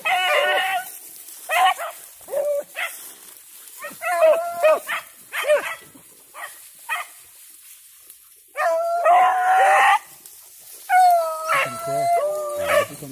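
Puppies bark and yelp in short bursts at a kennel, some drawn-out howling whines and whimpers among them, fairly close and loud with no talking.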